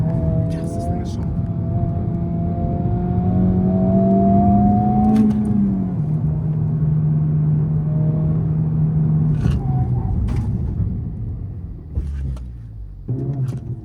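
A Honda Civic Type R circles a wet skid pan, its engine droning steadily with rising and falling revs through the turns, loud and continuous, while a voice talks over it.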